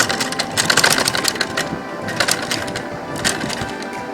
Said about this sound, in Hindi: हम वहाँ पर लाएंगे मशीन को और इस तरह से घुमा के और उस पर सिलाई लगा देंगे